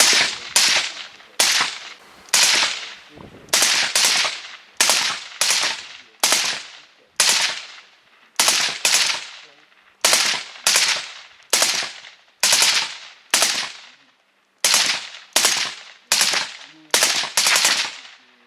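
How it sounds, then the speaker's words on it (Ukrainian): Loud 5.45 rifle shots fired one after another, with a Hunter Pro Air suppressor and a standard muzzle brake, about two dozen sharp cracks at a fairly even pace, some pairs closer together, with brief silences between. "постріли з глушником Hunter Pro Air і зі стандартним ДТК"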